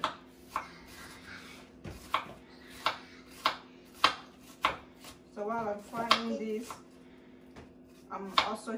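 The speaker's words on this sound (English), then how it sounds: "I'm trying to cut the onions as small as possible." Sharp knife chops slicing onions on a cutting board in a steady rhythm, about one per half second, with a brief stretch of talk in the middle.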